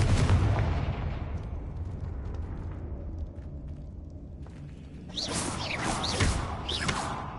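Confringo fire blast spell in the video game Hogwarts Legacy, opening with a loud booming explosion that rumbles and decays over several seconds, then a burst of bright crackling and whooshing effects near the end.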